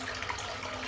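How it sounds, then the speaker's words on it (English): Tap water runs steadily into a bathroom sink, a close, constant splashing rush that fills the short moment. "I'm just going to fill the sink up just a little bit more"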